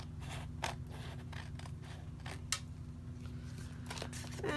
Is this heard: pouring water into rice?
no